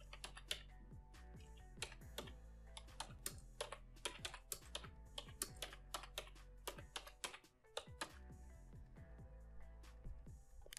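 A name being typed on a computer keyboard, with rapid, close, crisp keystrokes in irregular bursts, a short pause partway through, then more typing.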